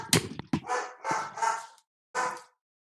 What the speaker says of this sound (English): She's barking at the neighbor's dog that's playing with its owner right now.